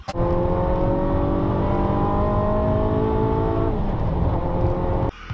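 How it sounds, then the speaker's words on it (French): Ferrari accelerating on a highway, a loud steady engine drone with rising whine that climbs smoothly, then drops as a gear changes near the end, heard from close by with no voices. "Il arrive rapidement sur le highway et passe les vitesses tranquillement."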